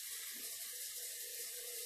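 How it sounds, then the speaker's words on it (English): Tap water runs into a pot holding eggs, a steady soft rush of flowing water heard close and alone. "put your eggs in first, then turn your water on."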